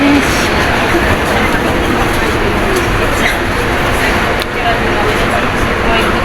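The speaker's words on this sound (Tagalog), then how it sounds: "MTR train going to Tongchong." An MTR train in Hong Kong running toward Tung Chung, heard from inside the carriage: loud, steady rumbling roar with rail noise throughout, one brief dip near the end, and a voice talking over it.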